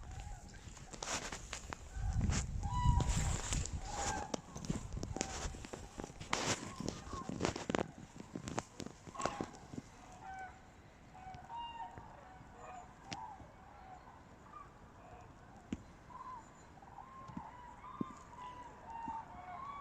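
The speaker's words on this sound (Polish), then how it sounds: "Bardzo dużo śpiewu różnych ptaków, w tym łabędzi." Various birds call outdoors by the water, swans among them, with scattered chirps and short cries over a steady outdoor hiss and some louder rustling and thumps early on.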